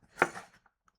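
A knife chops food on a cutting board, one sharp strike followed by a softer scrape and a couple of faint ticks, brief and close.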